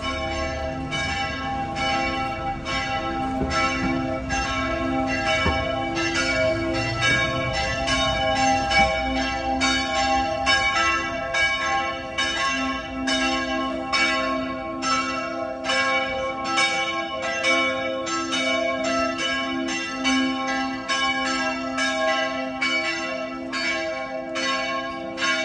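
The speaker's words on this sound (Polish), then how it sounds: "Dzwony dzwonią." Church bells ring in a Croatian town, a dense, continuous peal of many overlapping strikes with long ringing tones, loud and steady for the whole stretch with no voices.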